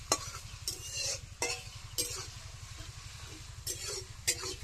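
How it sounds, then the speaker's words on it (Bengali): Amla, Indian gooseberry, stirred in hot oil for hair oil, giving a steady low sizzle with repeated scraping and clinking spoon strokes at an uneven rhythm, close and moderately loud. "এবার কমাতে কিন্তু নাড়াচাড়া করতে হবে যাতে আমলকির গুণাগুণটা তেলের মধ্যে যায়"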